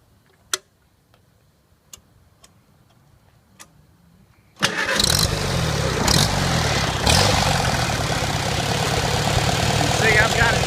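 Farmall Super C tractor engine cranking and catching after a few faint ticks, then running steadily at a governed speed held below wide open throttle, loud and close with an even rumbling idle.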